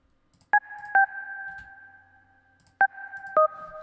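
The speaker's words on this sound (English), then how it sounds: "And then we introduce this little sign pluck." Four clean electronic sine wave synth plucks, each a pure two-note tone with a sharp attack and a long ringing tail, spaced unevenly.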